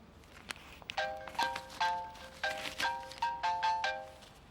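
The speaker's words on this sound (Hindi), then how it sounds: "अदनान का फोन है।" A mobile phone ringtone chimes in a repeating melodic pattern of bright tones at moderate loudness, starting after a couple of brief knocks, with no talking over it.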